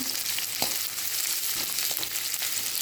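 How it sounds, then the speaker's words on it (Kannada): Onions sauté in a hot pan as a constant bright sizzle, broken by a few soft scrapes of a spoon mixing them, all close and even in level. "ಈರುಳ್ಳಿ ಜಾಸ್ತಿ ಫ್ರೈ ಆಗೋದೇನು ಬೇಡ, ಸ್ವಲ್ಪ ಫ್ರೈ ಆದರೆ ಸಾಕು"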